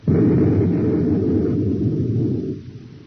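A heavy, low explosion-like rumble hits suddenly and roars steadily for a couple of seconds before tapering off, with no voices.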